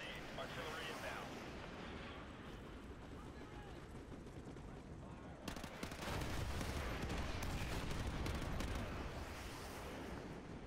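Artillery rounds strike vehicles in Call of Duty Modern Warfare 2, a rumbling barrage that swells into sustained, roaring booms halfway through, layered with distant gunfire and a constant battlefield din.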